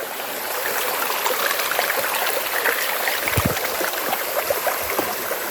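Steady rushing flow of a stream at Sai Thong waterfall in Sai Thong National Park, Chaiyaphum, a broad continuous wash of water close by with small splashes and no talk.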